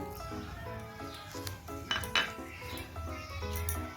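Yogurt with a spoonful of sugar and half a cup of water is whisked by hand for a fish raita, giving fast, uneven metal clinks and scrapes against a bowl, fairly close and moderately loud, with no talking.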